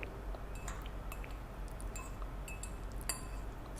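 Grated carrot being stirred into a salad dressing in a bowl for a carrot, lime and chili salad, with soft wet clinks and scrapes of a utensil against the bowl, steady and close with no talk.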